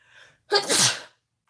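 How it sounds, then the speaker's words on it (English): A single sharp, loud sneeze close by, preceded by a brief inhaled breath and followed by silence. "I'm about to sneeze"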